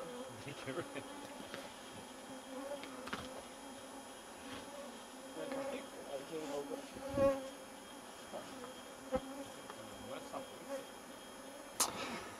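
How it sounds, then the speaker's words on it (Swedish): Small flying insects buzz and whine close by outdoors in a Swedish valley in summer, a thin steady drone with occasional louder passes, faint voices and a cough now and then. "Med myggen?"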